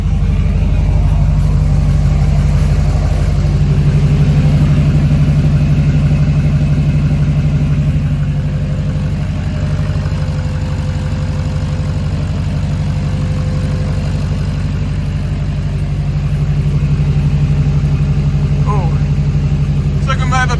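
A freshly rebuilt Duramax diesel engine idles steadily with a low, even rumble and faint clatter, close by and constant, while people talk over it.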